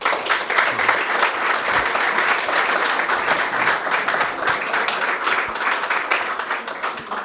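An audience at a lecture in Buenos Aires gives a round of applause, with dense, loud, continuous clapping that lasts throughout.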